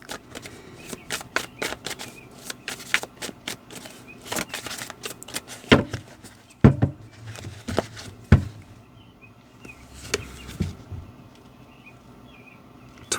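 Tarot cards shuffled by hand in a steady run of crisp riffling flicks and soft slaps, close and fairly quiet, with a few sharper snaps midway and no talk.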